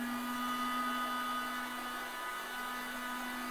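A Panasonic blender with its lid locked runs at high speed, a steady, close motor whine with a strong constant tone that holds unbroken throughout.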